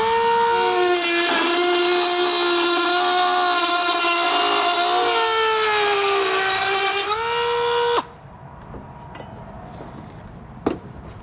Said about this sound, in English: we're going to go ahead and take our cutoff tool here and begin removing that material